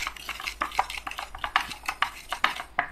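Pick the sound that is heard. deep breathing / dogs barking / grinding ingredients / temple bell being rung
grinding ingredients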